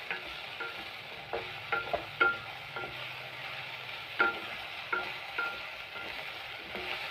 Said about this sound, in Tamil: ஏன் வெண்டைக்காய் வதக்குறோன்னா அந்த வளவளப்பு போகணுன்னு